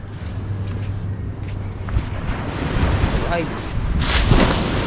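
Rough sea waves surging and washing steadily at close range, with wind buffeting the microphone and a low motor hum early on, building louder toward the end.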